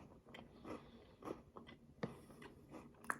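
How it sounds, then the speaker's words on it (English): A melon-flavored Kit Kat wafer is bitten and chewed close up, a series of quiet, crisp crunches in an irregular rhythm, with no talk. "you can hear the cookie crunch"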